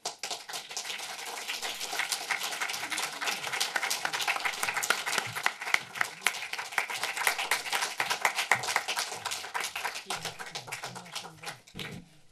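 An audience applauds to welcome actress Veronica Ferres at a film museum talk, with dense, steady clapping that swells, then thins out and fades near the end.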